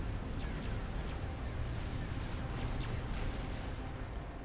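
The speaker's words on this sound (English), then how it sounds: "seeing all this thermonuclear explosion happening all over the base" Dense, continuous rumbling blasts of thermonuclear explosions tearing across a base in the strategy game Supreme Commander, a steady loud barrage of booms with no pauses.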